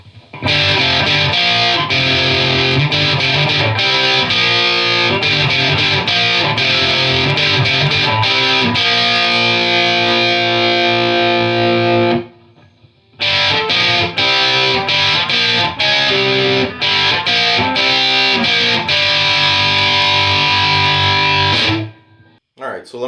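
A heavily distorted electric guitar through a 4x12 Greenback speaker cabinet, with a little reverb and no delay, plays sustained chords and riffs, loud and close, with a brief pause midway before it resumes.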